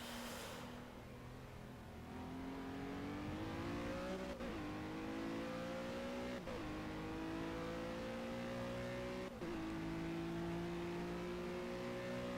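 A Ginetta GT4 race car engine in the racing game Project Cars drones and climbs steadily in pitch, dipping briefly at three gear shifts, a continuous close engine note with no speech.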